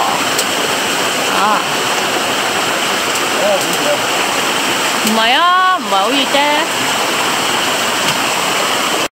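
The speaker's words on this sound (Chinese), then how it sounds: "有个瀑布仔" A small forest waterfall pours in a loud, constant rushing wash, while a person speaks briefly over it partway through.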